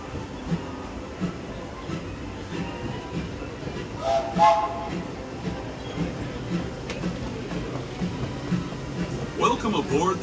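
The Disneyland Railroad train rumbles steadily along the rails with a brief whistle partway through, while people talk over the constant rolling noise.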